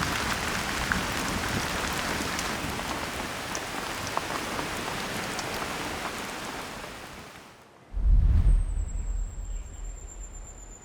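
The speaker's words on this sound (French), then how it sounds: "qu'on entendait la pluie dehors" Steady rain pours outside a shelter at night, a dense even hiss for most of the stretch before a brief lull and a louder, closer, rumbling burst near the end.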